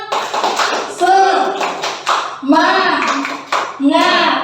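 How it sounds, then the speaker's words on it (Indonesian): A group claps hands at a school gathering for teachers, in several short bursts of uneven rhythm, with children's voices and chatter mixed in between. "Monggo, beri tepuk tangan Pak."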